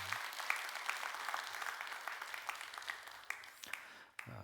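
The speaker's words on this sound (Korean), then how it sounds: "여러분 다시 한번 큰 박수 한번 해주세요" A church congregation claps together, steady and fairly faint, the applause spreading across the room and then thinning out at the end.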